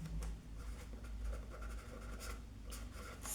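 Marker or chalk writing on a board during a lesson, a series of faint scratchy strokes and short rubbing bursts in quick irregular rhythm, close by and quiet, without speech.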